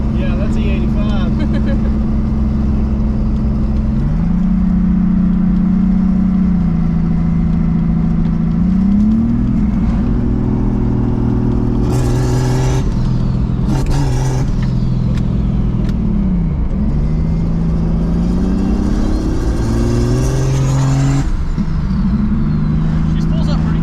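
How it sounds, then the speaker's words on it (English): A turbocharged Jeep XJ running on E85 revs repeatedly, its engine note climbing and falling as the turbo spools with whooshing rushes, loud and close, while people talk over it. "She spools up pretty quick."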